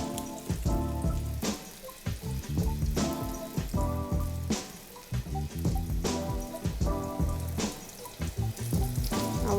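Bermuda-style fish cakes frying in hot oil in a pan, a dense continuous crackle and spatter with repeated bursts as the oil bubbles, close and loud with no talk.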